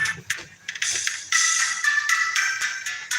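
A phone SMS notification tone chimes repeatedly in short bright bursts, fairly close and clear, with no voice over it.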